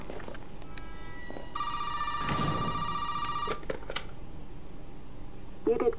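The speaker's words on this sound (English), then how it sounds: "Phone." Telephone ringing in the video game Resident Evil 7, a single electronic ring lasting about two seconds over low ambient game noise, followed by faint clicks.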